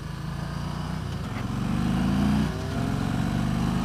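2018 Yamaha Star Venture touring motorcycle accelerating at full throttle, a low steady engine drone that rises in pitch and loudness, briefly dips at a gear change, then continues.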